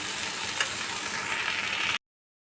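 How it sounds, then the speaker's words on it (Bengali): Capsicum and potato frying lightly in a pan over low heat, a soft, steady sizzle with faint stirring clinks, continuous for about two seconds before cutting off. "আমি আঁচ কমিয়ে কিন্তু আলুর সাথে ক্যাপসিকামটা হালকা ভেজে নিচ্ছি।"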